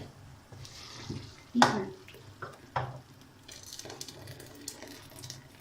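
A ladle stirs camel meat haleem in a cooking pot, giving a few scraping, sloshing strokes and one sharp clank against the metal, close and moderately loud with quiet kitchen background between strokes.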